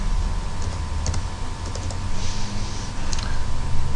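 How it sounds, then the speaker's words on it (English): Typing on a computer keyboard in an office, scattered soft key clicks over a steady low background hum, no voices. "You can type in a start date"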